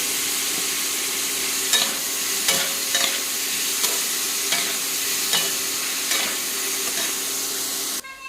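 Potatoes sizzle in hot oil for curry while a spatula scrapes and stirs them, the steady frying hiss broken by a series of sharp metallic strokes roughly every second, close by, with no talk.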